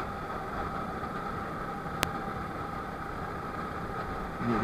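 A motorbike engine drones steadily while riding across the Vidyasagar Setu bridge in Kolkata, a constant mid-low hum broken by one sharp click partway through.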